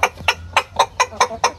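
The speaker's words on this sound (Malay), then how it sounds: "Ayam pun seronok bila dah kita tukar alas baru." Chickens in a freshly cleaned coop with new bedding give a series of sharp clucks, about seven short, evenly spaced calls in quick succession. They are close and clear, with no talking.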